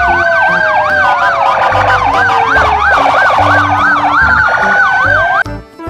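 A toy police car's electronic siren wails loudly and continuously in rapid up-and-down sweeps over a low pulsing tone, close by, cutting off abruptly near the end.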